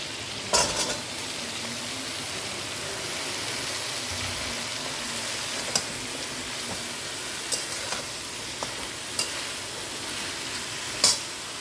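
Water lily stems sizzling and being stirred in a pan with mung lentils and prawns, a continuous loud hiss of frying broken by several sharp utensil clicks against the pan; no talking.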